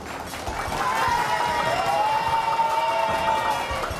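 A studio audience at a televised election debate applauds and cheers, a lively, continuous crowd sound that swells after the first moment and holds steady.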